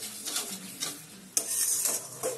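Pieces of katla fish sizzle and crackle in hot oil in a pan for a Bengali nawabi-style dish, with bursts of sizzling and light stirring scrapes close by, rising and falling.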